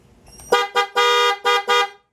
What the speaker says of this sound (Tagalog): Lumakas yung busina.